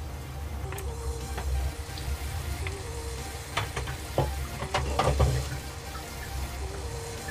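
Bitter gourd with melting sugar sizzles steadily in a covered pan over a very low flame, with occasional light clinks and stirring sounds and no talking.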